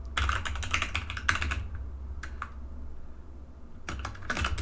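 Bursts of fast typing on a computer keyboard, close and crisp, separated by a quiet pause with a couple of isolated keystrokes, over a steady low hum.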